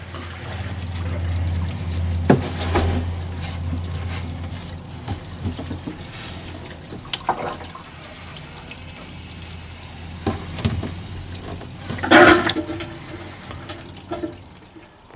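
Water drains from a newly installed travel trailer holding tank, a steady low rushing flow with intermittent splashes and gurgles, fairly close and without talk.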